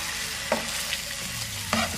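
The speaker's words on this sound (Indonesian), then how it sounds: "Setelah harum kemudian masukkan sausnya, saus tomat dan saus sambalnya. Kemudian diaduk" Tomato sauce and chili sauce sizzle and fry in a hot pan for chicken katsu, with a steady crackle under scraping stir strokes at a relaxed pace.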